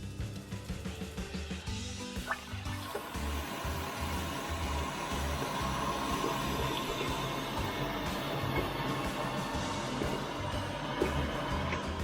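Water runs steadily from a small sink faucet into a Berkey water filter, a continuous rushing stream that starts after a brief pause and holds at moderate level throughout.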